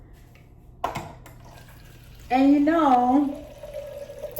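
Water from a tap runs into a protein shake cup, a steady filling rush lasting about a second after a sharp knock, with a brief spoken word just before.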